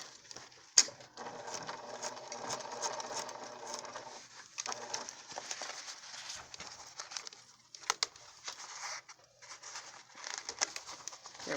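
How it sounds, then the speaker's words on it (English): Sewing machine stitching fabric for a nose enclosure, a faint continuous mechanical whir with a brief pause and uneven stop-start bursts, heard fairly close in a quiet room. "I'm going to sew all the way across. And then I'm going to sew back up."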